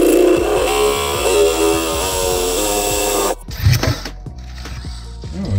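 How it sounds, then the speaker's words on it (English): A 7/8 inch hole saw bit cuts into metal on a 2004 Ram 3500 during a FASS 165 fuel pump install, giving a loud grinding, ratcheting drill whir for about three seconds, then stopping into scattered clunks and handling noises. "where you're gonna drill this is this hole right here"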